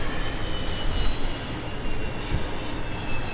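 A Boeing 737-700 airliner at Dallas Love Field roars loud and steady close by, its jet engines giving a dense, unbroken rumble with no pauses.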